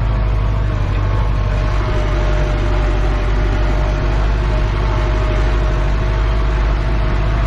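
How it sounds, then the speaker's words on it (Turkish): A tractor engine runs steadily while pulling a plough across a fallow field where deep ripping was done earlier. The low, even drone is loud and close, holds the same pitch throughout, and no voices are heard. "pulluğu kaldırdığım andan itibaren bile ses hiç değişmiyor motorda"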